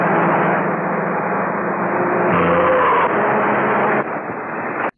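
A car driving fast in the old film Reefer Madness, a steady, loud engine roar and rushing road noise that holds throughout before cutting off abruptly at the end.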